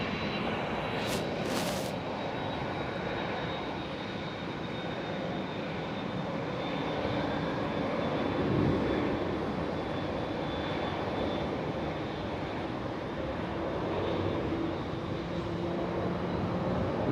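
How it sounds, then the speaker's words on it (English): A Boeing 787-10 Dreamliner at Schiphol Amsterdam roars with a steady, continuous jet rumble that swells slightly in the middle, heard from a distance with no voices. "This Dreamliner is asking for some attention"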